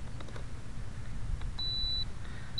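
A timer beeps before the flight of a modified Art Tech P-51 Mustang RC plane from Hobbyking, sounding as a thin, high, sustained electronic tone for about half a second, followed by a short second beep, over faint background noise.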